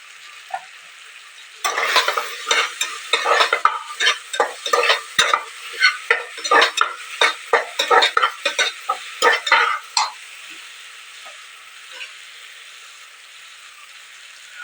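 Curry leaves crackle and sizzle in hot oil in a pan, with a rapid series of loud popping bursts as they are stirred, fading to quiet crackles at the end; no talking.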